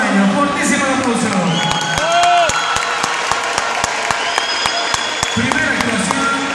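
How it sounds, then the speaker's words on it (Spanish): Loud, sustained applause with cheering and whoops from an audience at a children's dance show in Las Palmas de Gran Canaria, greeting groups of four- to eight-year-olds, with voices mixed in. "Niños de 4 a 8 años, fortísimo aplauso."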